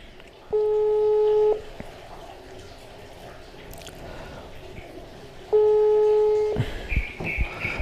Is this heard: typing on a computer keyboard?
no